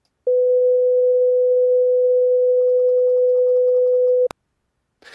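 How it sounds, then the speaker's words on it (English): A single pure steady 500 hertz sine wave tone sounds for about four seconds at constant loudness, then cuts off abruptly with a click, followed by silence. "what I have recorded in it is a sine wave playing a 500 hertz tone"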